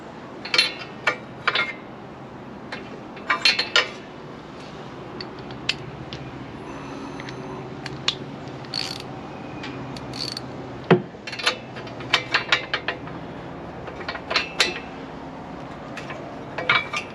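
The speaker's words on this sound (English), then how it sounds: "Got in there with my socket that is a spark plug socket." A spark plug socket works the plug loose on an Onan RV generator, making intermittent metallic clicks, ratcheting and clinks close by, in short irregular bursts separated by quiet pauses.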